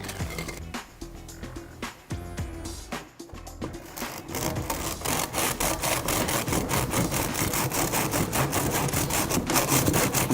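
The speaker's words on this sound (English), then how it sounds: "Trim down our bamboo." Hand saw cutting through bamboo, irregular strokes at first, then a fast steady back-and-forth rasp that grows louder and continuous, close by with no talking.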